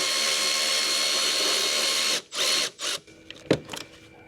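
A power tool whirs continuously while removing alternator bolts on a broken minivan, then stops and starts in short bursts before a metallic clank and a few small clicks, loud and close.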